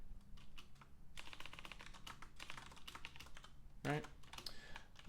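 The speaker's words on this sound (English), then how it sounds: "Not having a good typing day." Rapid bursts of keystrokes clatter on a computer keyboard while someone programs, with brief pauses between runs and a short vocal sound near the end.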